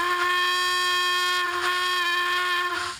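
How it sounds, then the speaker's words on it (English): A steady, sustained whistle with a rich harmonic tone sounds continuously for about three seconds, close and loud, like a small locomotive whistle. "So every time I press that button, it will trigger the whistle."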